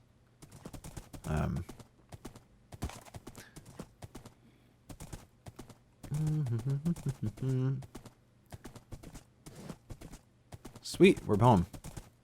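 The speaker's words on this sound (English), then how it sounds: "Riding a horse through a forest is a real pain in the buttocks." Horse hooves clip-clop on the ground through a forest in Minecraft, rhythmic soft hoof taps repeating throughout, with someone talking over them in a few bursts and keyboard clicking.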